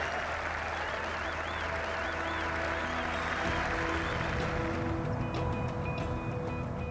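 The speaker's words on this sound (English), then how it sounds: "Was this the cheer? It certainly was." A golf gallery at the Open on the Old Course cheers and applauds a birdie at the 17th, sustained clapping and crowd noise that swells and then thins toward the end.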